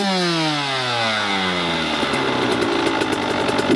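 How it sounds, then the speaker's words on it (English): A KTM or Husqvarna 85/105 motorcycle engine with a Rekluse clutch revs down and settles into a steady, loud idle with a rough, pulsing rhythm. "Before making another blip of the throttle, always allow the engine to reach idle."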